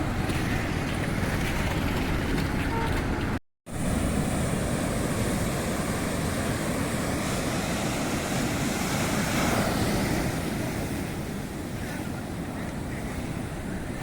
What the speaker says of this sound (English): The water at this Arcade Beach flows very gently with calm and